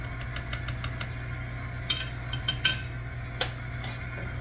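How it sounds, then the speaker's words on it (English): An electric mixer whirs steadily at moderate volume while banana nut bread batter is made, with occasional light clinks of utensils against the bowl and no talking. "with your mixer running"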